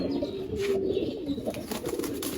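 Low, rolling coos from a domestic clay pigeon kept by a hobby breeder, a few phrases repeated close by over steady background noise.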